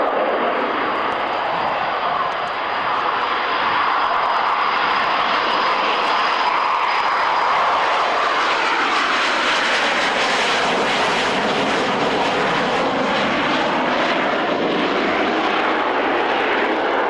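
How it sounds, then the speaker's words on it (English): A de Havilland Comet jetliner in its final month of flying makes a pass at the 1994 RIAT Fairford air show. The loud engine roar swells as it nears, then sweeps down in pitch as it passes and recedes. "She flies it before us in the last month of the Comet's flying life."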